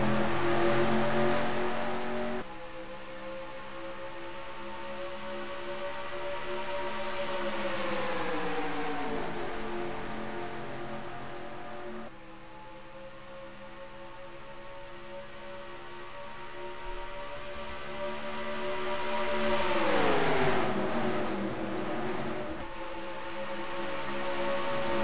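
Race trucks in a racing video game circle the Chicagoland oval, engines rising and falling in long sweeping passes, with tones that bend as the trucks go by and no voices over them.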